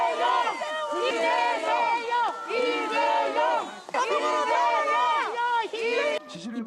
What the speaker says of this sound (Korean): 응원의 함성과 비판의 고성이